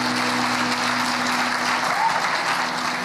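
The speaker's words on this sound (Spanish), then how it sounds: "dar un aplauso al Señor" Congregation applauding in a church service, a steady, dense wash of clapping sustained throughout, loud and close with a faint crowd murmur beneath.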